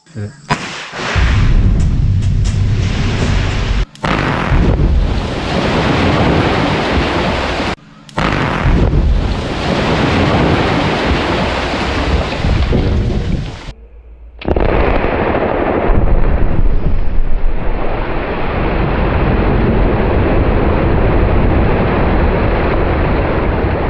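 A rock blast set off with explosives roars out loud and close, a dense sustained rumble with sharp breaks, dropping off briefly before a long, steady rush of falling debris and wind.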